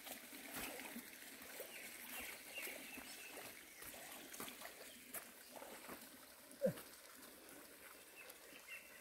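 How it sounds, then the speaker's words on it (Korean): Faint, steady trickle of a small stream running continuously, with a few light splashes and one brief louder plop, no voices. "물이 많이는 안 내려가는데 항상 이렇게 졸졸졸졸 내려가는 물을"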